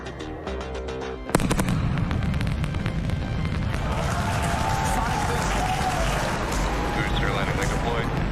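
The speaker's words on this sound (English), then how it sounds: "you're going to hear those sonic booms" Sonic booms from a returning Starship Super Heavy rocket booster: a sharp loud crack bursts out, then a sustained rumbling roar continues, with crowd noise and voices underneath.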